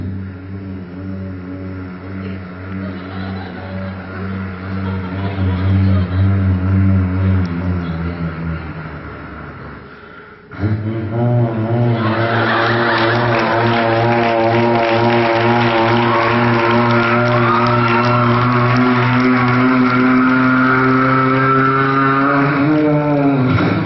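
A voice imitates an old Ashok Leyland bus labouring up a hill, a loud continuous droning engine growl that breaks briefly midway, then resumes with a higher, straining tone held steadily to the end.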